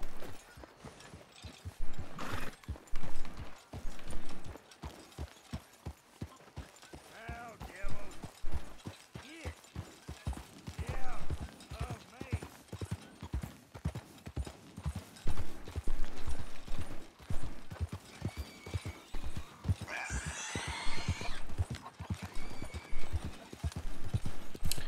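A horse clip-clops steadily at a walking pace beneath Arthur Morgan in Red Dead Redemption 2, its close, rhythmic hoofbeats mixed with faint game ambience and occasional creaking tack.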